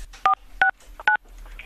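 Three separate touch-tone keypad beeps sound on a telephone as a four-digit code is entered, each tone short and evenly spaced, clear and fairly loud with quiet gaps between them.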